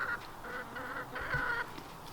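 A chicken in a barn gives a string of honking, nasal squawks, faint and at a distance, with no voices.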